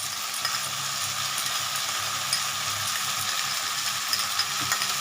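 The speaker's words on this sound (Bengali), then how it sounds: "ভালো করে মশলাটা কষাতে হবে" Spice paste for ghugni frying and being stirred in a pan, a steady close sizzle with soft scraping strokes running throughout, no voices.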